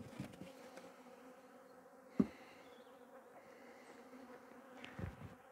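Bees hum faintly and steadily around a hive, with a sharp tap or knock standing out partway through.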